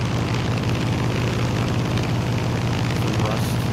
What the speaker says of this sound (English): It is a cool World War II plane.